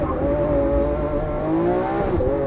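A Lamborghini Aventador S engine pulls hard under acceleration, its loud rising howl climbing steadily in pitch with a brief dip and recovery near the end.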